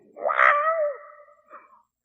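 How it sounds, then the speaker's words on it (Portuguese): The lion cub Simba in an animated film lets out a weak, cat-like roar: one rising, drawn-out cry followed by a shorter, fainter second call, alone and clear. "E ele, com seu pequeno rosnar, tenta fazer aquele rugido."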